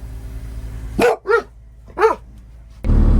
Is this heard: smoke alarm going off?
no